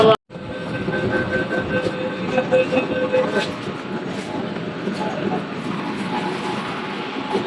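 An underwater metro train under the Ganges rumbles steadily along the track with a constant low roar and faint clatter, close and continuous, with murmured voices faintly underneath.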